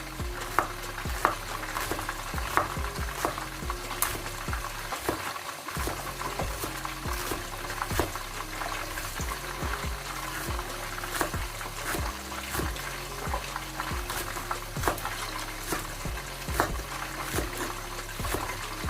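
Fish frying in a pan for a fish masala curry gives a steady close sizzle, broken by repeated sharp clicks and scrapes of a utensil turning the pieces, with no talk throughout.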